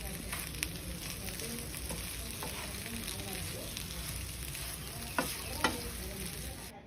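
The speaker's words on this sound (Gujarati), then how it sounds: "એકદમ સારી રીતના આપણે ફરીથી મિક્સ કરી દેવાનું છે." Cabbage muthiya mixture made with coarse wheat flour, sugar and red chilli is stirred in a pan with a steady low scraping and faint sizzle, broken by a couple of sharper utensil taps near the end.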